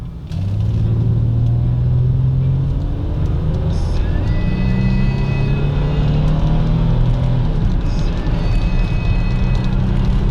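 A car engine rises in pitch as it accelerates, with a steady rumble of road noise inside the cabin and shifting engine tones throughout.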